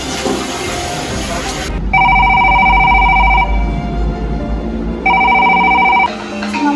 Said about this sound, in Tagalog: Si Mama tumatawag.